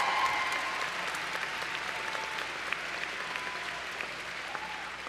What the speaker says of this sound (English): And one more, and then a big cheer, okay?